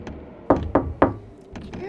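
Three firm, evenly spaced knocks land on a large door in a German radio drama, followed by two softer taps, close and resonant against a quiet background.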